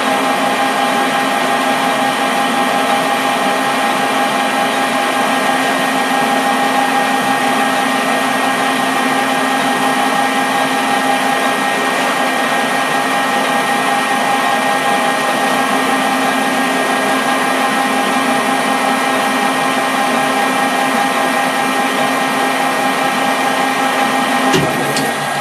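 A metal lathe takes a light skim pass on an adapter for a wood lathe chuck, giving a steady machine whine with layered motor and spindle tones that hold constant and loud throughout, with no talking.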